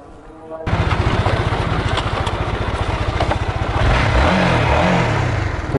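A motorcycle engine starts abruptly and runs loud and close, with a throbbing idle that rises into revving, and a person talks over it.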